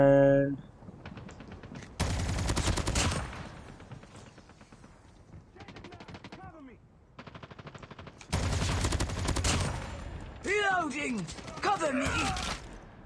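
Rapid bursts of gunfire from a recoilless gun in a multiplayer Hardpoint match, firing in repeated volleys at moderate loudness, with game effects and a player talking between the bursts.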